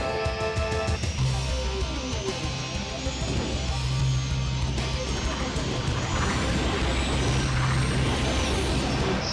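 Race start in the video game F-Zero X, with racing machines roaring and accelerating together, a loud dense engine whoosh and rising whine that builds after a short countdown-like series of tones at the beginning.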